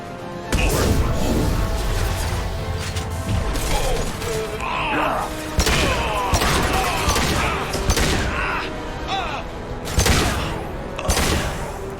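Chaotic sci-fi firefight in Mass Effect, with repeated loud gun bursts and crashing impacts spread across the whole stretch, and a voice heard among the shots.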